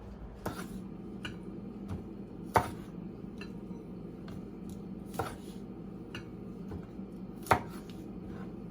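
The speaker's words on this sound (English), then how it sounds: "what I like to do is just cut off this end here a little bit" A knife trims the ends off coiled fiddleheads on a cutting board, making sparse, irregular chops with a few sharper knocks against the board, fairly close and otherwise quiet.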